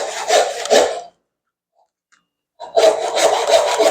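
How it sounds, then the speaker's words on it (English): A dovetail saw rasping back and forth through wood in close, steady strokes, stopping for about a second and a half of silence before the sawing picks up again; no one speaks. "what I have is a dovetail saw"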